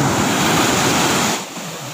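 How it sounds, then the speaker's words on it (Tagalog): Rough monsoon-season surf crashes onto a black sand beach, a loud, close roar of breaking water that drops off sharply near the end as the wave recedes, with some wind buffeting the microphone. "basta importante nakaka-relax yung hampas ng alon"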